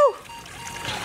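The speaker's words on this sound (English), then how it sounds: "You get to pour all of our bugs into the pool." A pile of toy insects tumbles into a water-filled play pool with one quick splash that settles into a soft trickle and ripple, brief and close.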